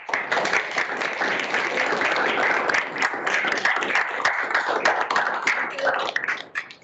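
Close, dense applause from a conference audience at a neuroimmune pharmacology presentation session, sustained clapping for several seconds before tapering off at the end.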